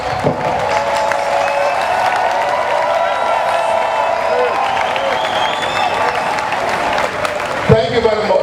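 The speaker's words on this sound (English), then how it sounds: "Please let us stand and give rousing applause to His Excellency Senator Dr. Ifeanyi Okowa," Standing applause and cheering from an audience for the Governor of Delta State at a youth event, steady, sustained clapping with crowd noise, a voice speaking over it and a brief thump near the end.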